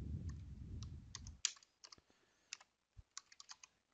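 Quick bursts of keystrokes on a computer keyboard, crisp close clicks in short irregular runs after a brief low rumble at the start, no voices.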